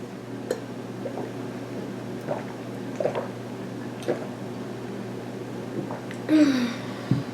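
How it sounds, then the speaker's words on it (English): Water is gulped quickly from a glass in a series of soft swallowing and squishing sounds, close by and quiet, with a brief louder burst near the end. "Now we're going to try drinking a glass of water quickly."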